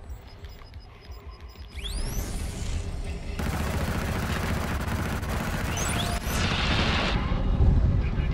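Turret fire during a Domination match in Killzone: Shadow Fall, a dense sustained fusillade of close rapid shots with booming impacts and whooshing projectiles, loud and continuous with no pause.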